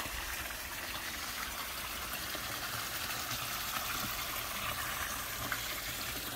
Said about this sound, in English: Beautiful looking hot tub with a waterfall.